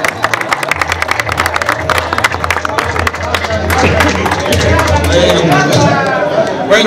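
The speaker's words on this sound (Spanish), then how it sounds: "vamos a darle otro aplauso" Spectators at a veterans' football final break into another round of loud, dense clapping that dies away into a steady crowd murmur with people talking.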